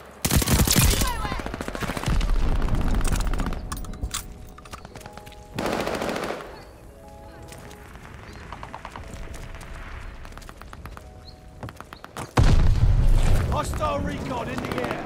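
Rapid automatic gunfire from a Call of Duty Vanguard multiplayer match, MP40 class, loud bursts at the start and again near the end, with quieter scattered shots and game effects between.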